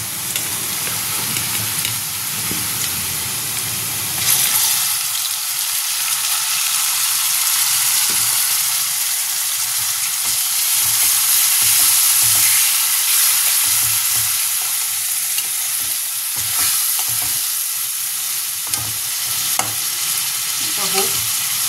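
Chopped onions fried to a reddish-brown in a pan for chicken pulao, with ginger-garlic paste added, sizzle steadily and loudly throughout, while a spoon stirs and scrapes in irregular bursts.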